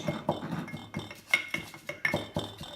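A wooden spoon pounds and crushes leaves inside a container, giving a run of soft knocks and clinks roughly twice a second, close and fairly quiet, with no talking.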